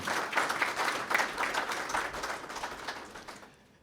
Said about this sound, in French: Il mérite encore ces applaudissements.